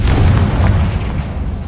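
A Confringo blasting spell from Hogwarts Legacy goes off as a deep, heavy boom, rumbling loudly and continuously through the whole moment with no speech.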